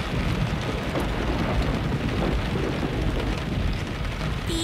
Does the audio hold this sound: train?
no